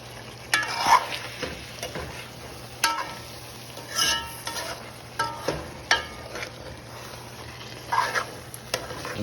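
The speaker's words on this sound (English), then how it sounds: "now we're gonna mix up the ingredients" A spoon stirs curry ingredients for king fish in a sizzling pan, with repeated scraping strokes at an irregular rhythm over a soft, constant fry hiss, close by and moderately quiet.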